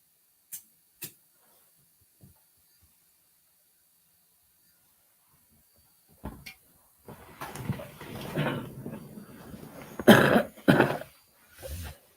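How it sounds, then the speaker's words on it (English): One person coughs and clears their throat in a small echoey shower. Isolated short coughs come first, then after a long quiet stretch a louder run of hacking, rasping throat clearing and harsh coughs. "I'm gonna mute for a minute until I clear my throat."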